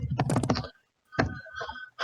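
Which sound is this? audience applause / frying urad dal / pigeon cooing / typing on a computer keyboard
typing on a computer keyboard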